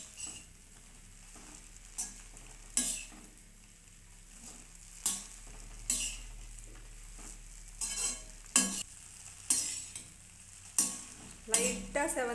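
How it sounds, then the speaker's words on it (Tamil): Pieces of bread are lightly toasted in ghee in a pan, with a soft, low sizzle under about a dozen sharp, rhythmic scrapes and taps of a spatula stirring them. "இப்போ வந்து நம்ம ப்ரெட்டை வந்து லைட்டாக நெய் விட்டு அந்த வாசனை நெய்மானம் ஏறுறதுக்காக"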